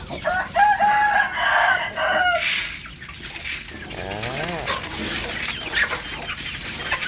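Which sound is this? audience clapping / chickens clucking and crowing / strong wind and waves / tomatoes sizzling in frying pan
chickens clucking and crowing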